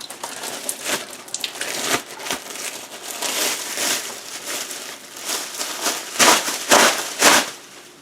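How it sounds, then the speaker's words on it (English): A big plastic garbage bag is handled and shifted, giving loud, close crinkling and rustling bursts at an irregular rhythm, sharpest toward the end. "I grab a big plastic bag. This is a garbage bag"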